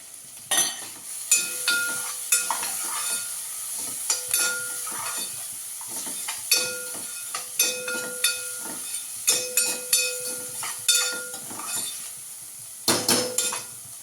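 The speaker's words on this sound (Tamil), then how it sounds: "உப்பு போட்டால் வெங்காயம் நல்லா வதங்கும்." Onions with salt sauté in groundnut oil for a baby jackfruit kuzhambu, giving a steady hissing sizzle broken by repeated scraping and stirring clinks against the pan.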